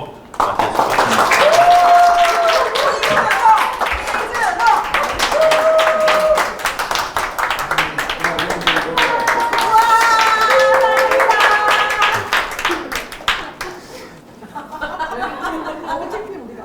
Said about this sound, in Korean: 우리 선교사님 모셔서 설명회 진행할 텐데 뜨거운 박수로 맞이해주시겠습니다